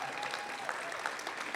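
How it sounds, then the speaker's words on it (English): An audience at an evening city awards ceremony applauds its sponsors with steady, even clapping from a crowd in a hall, no voices over it. "So please give them all a round of applause."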